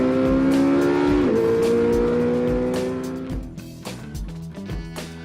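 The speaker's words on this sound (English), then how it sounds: "today we went to VIR to test the beautiful supercars, so obviously the 959, Carrera GT and the 918." Porsche supercars, a 959, Carrera GT and 918, run at VIR racetrack; one engine revs loud and high with rising pitch, then drops as the car passes, with a tire squeal and continuous engine noise afterward.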